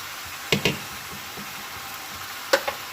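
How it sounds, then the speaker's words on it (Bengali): Malabar spinach goes into a pan where a catla fish head has been frying, a low steady sizzle broken by two pairs of sharp clacks from utensil or pan handling. "মুড়োটা দিয়ে খানিকক্ষণ কষিয়ে নিয়েছি, এবার এর মধ্যে দিয়ে দেবো শাকটা।"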